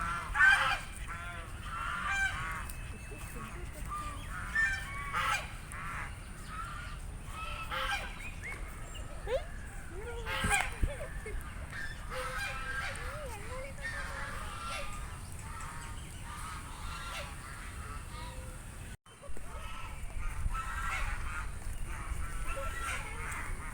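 Ducks honk and quack around a small swimming pool in a large green park in Bengaluru, a busy cluster of repeated nasal calls over a steady outdoor background, with faint people nearby.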